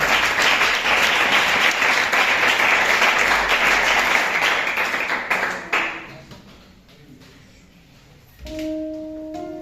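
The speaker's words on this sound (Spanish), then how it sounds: "Dale un aplauso al Señor" A church congregation applauds loudly and steadily for several seconds, then the clapping fades out into a quiet room before a tone begins.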